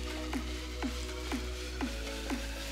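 Chopped onion sizzling in hot oil with garlic in a pan on the stove, a steady low sizzle broken by about five soft stirring scrapes at even intervals, close and fairly quiet.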